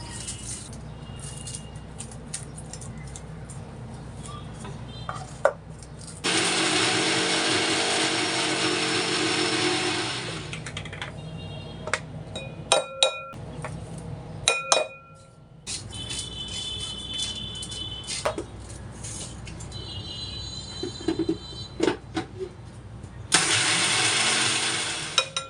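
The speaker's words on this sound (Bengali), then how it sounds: "এখন এই মুচমুচে শুটকিগুলোকে আমি খুব সুন্দর করে ব্লেন্ড করে নিব" An electric blender grinds crispy dried fish in loud, whirring bursts of several seconds each, stopping and starting again, with a rattle and clatter between runs in a home kitchen.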